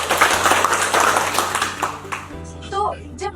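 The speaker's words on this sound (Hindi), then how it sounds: "सर के लिए तालियां हो जाए।" Trainees in a session at a Maruti Suzuki facility clap for the instructor, a short burst of group clapping over a steady low hum, followed by speech.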